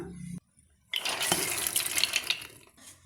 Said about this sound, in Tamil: இப்போ இந்த பருப்பு முங்குற அளவுக்கு தண்ணி சேர்த்துக்கலாங்க